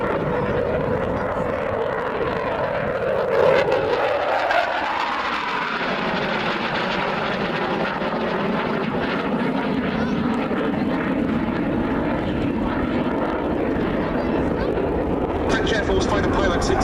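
A French Air Force Rafale fighter jet flies past at an air show, its loud, continuous broadband jet roar sweeping in pitch as it passes, with announcer speech over it.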